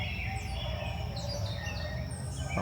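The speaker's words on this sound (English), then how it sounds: "You got some birds up there making a lot of noise." Many birds chirp and tweet overlapping outdoors on a morning, a steady busy chorus of calls at moderate distance with no talking.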